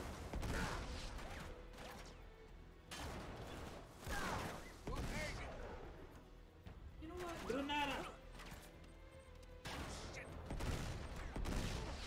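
Revolver gunfire and clattering in Uncharted 3 come as repeated bursts of sharp shots separated by short pauses, with someone talking between them.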